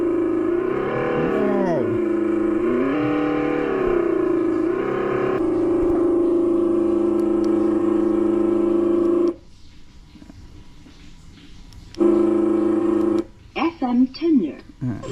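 A Volta Virgo electric motorbike accelerating under throttle, a steady tonal whine that rises and dips in pitch, then cuts off and briefly returns, with a short spoken exclamation near the end.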